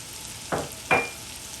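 Two short scraping stirs of rice and spinach mixture frying in oil for Guyanese spinach rice, each a brief swish against the pot over a faint, steady sizzle, with no talking.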